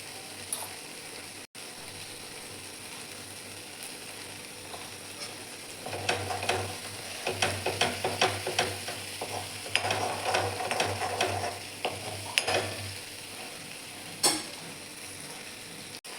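Masala with turmeric cooking in oil for a cluster bean dish, a steady sizzle under repeated scraping stirs that come in a busy burst midway, then ease off, with no voices.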